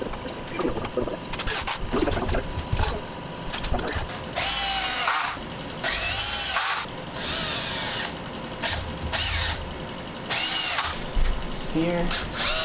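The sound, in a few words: power drill driving screws into wood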